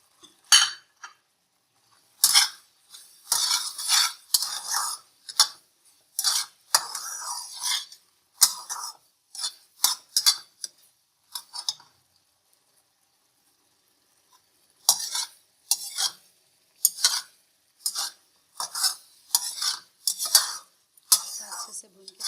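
Almond halwa is stirred and roasted in a pan in rhythmic bursts of scraping and clinking from a spoon, with short pauses and a long quiet stretch midway.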